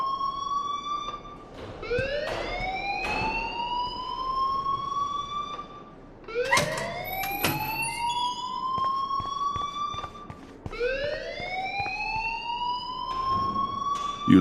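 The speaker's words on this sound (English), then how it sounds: "please turn off that alarm since that's your job" A fire alarm in the Life is Strange video game blares in repeated rising electronic whoops, each sweep climbing and holding before restarting, loud and steady with faint clatter beneath.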